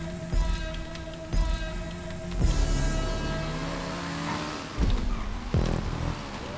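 Sanchez motorbike in GTA 5 Online: a steady engine drone with harmonic whine that rises and falls as it revs, with several short bursts of louder noise over it.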